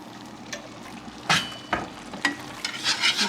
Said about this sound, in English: Keep on whisking.